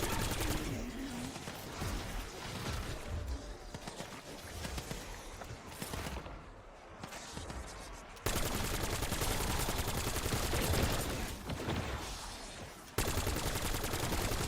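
Dense, continuous gunfire from an automated turret in Black Ops 7 Zombies, a steady loud rattle filling the whole stretch with brief shifts in intensity and faint voice underneath.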